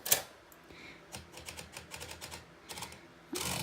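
A manual typewriter typing a cents sign, with a handful of separate, sharp keystrokes spaced irregularly, then a louder, sustained mechanical rattle at the end, close and alone.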